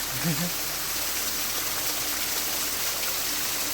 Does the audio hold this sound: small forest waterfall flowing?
yes